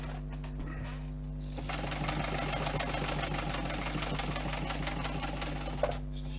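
Sewing machine stitching a multi tool pouch, a quiet motor hum giving way to a steady rapid rattling of the needle running continuously for several seconds, then slowing to a stop.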